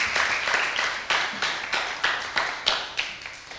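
An audience at a church debate championship applauds the diocese, a fairly sparse round of claps that settles into an even, regular rhythm, each clap sharp and distinct.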